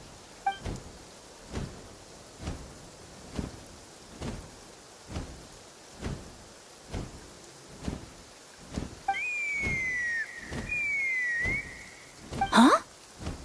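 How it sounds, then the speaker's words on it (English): A rising then falling electronic whistle sounds over a steady, pulsing game soundscape in Genshin Impact, followed by a brief burst of sharp tones. "That sounded like a whistle."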